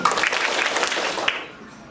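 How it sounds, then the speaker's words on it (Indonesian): Schoolchildren clapping their hands together during a museum outreach session in a classroom, a short burst of close applause that fades out after about a second and a half. "Kalau ini saya terbangkat begini, kalian tepuk tangan."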